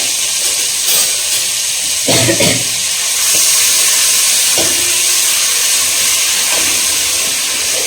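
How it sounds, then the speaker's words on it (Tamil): Ginger garlic paste frying in butter for a paneer masala tikka gravy gives a steady, close hiss and sizzle. It runs continuously for the whole stretch, with a few soft clinks or stirring sounds over it and no talk. "இஞ்சி பூண்டு பேஸ்ட் நல்லா சேர்த்து அந்த ரோஸ்ட் ஆகணும்"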